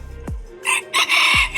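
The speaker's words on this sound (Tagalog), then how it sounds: "Yung manok dito" A rooster crows loudly and close by in short bursts, with low thumps between the calls.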